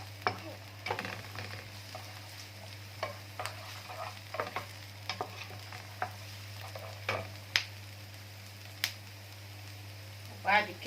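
Liver with onion fries quietly in a pan for a hearty home-style dish, a low sizzle broken by scattered clicks and scrapes as pieces are turned.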